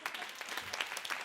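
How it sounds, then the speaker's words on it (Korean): A church youth worship congregation claps for Pastor Kang in a short, lively patter of many hands, close and steady, with no voices over it. "강 목사님을 위한 박수"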